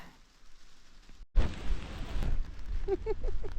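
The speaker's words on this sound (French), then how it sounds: "Mais il pleut. Il y a de l'orage." Steady rain patters close by during a thunderstorm in Turkey, then a sudden louder burst swells into a rumbling wash of downpour, with a few brief bird-like chirps near the end.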